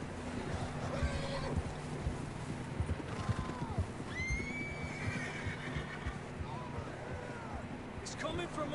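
Horses in the video game Red Dead Redemption 2 whinny several times in rising and falling calls over clip-clopping hooves, with game characters talking throughout.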